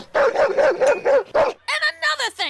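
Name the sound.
dog barking in cartoon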